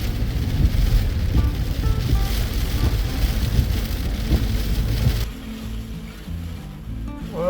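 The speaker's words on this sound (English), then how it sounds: "it's raining pretty hard out there right now" Heavy tropical storm rain pours loudly and steadily on surfaces at a campground by a jetty, easing to a quieter patter after about five seconds.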